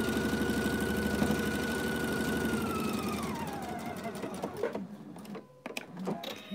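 A sewing machine stitches pieces of a pineapple log cabin quilt with a steady, fast mechanical whirring hum that slows and breaks into a few clicks and stops near the end.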